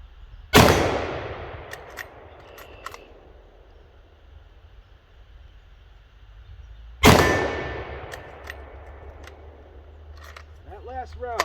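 Two loud Carcano rifle shots fired at a steel target about 60 to 70 yards away outdoors, each a sharp crack with a ringing tail, several seconds apart, with quiet pauses between.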